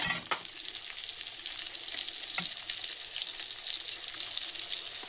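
Fish frying in a pan hisses in a steady, bright sizzle, close and constant, with a couple of sharp clicks near the start and no speech.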